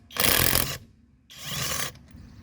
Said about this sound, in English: taking a lug nut off the Civic that's torqued at, I believe, 80 foot-pounds